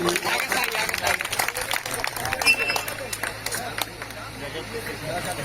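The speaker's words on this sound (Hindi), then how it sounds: "आप लोग एक बार तालियां बजा देंगे सभी लोग मनीष भैया के लिए" A crowd at a public gathering for Manish Kashyap applauds, a dense, steady wash of many hands clapping at moderate loudness that holds throughout, with a hum of crowd noise beneath.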